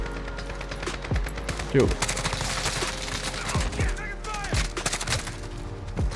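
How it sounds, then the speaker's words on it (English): Rapid bursts of gunfire from several directions in Modern Warfare, sharp repeated cracks over constant battle noise, with someone speaking briefly over the shooting. "I'm literally getting shot from every direction."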